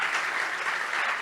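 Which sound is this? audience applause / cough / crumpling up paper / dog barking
audience applause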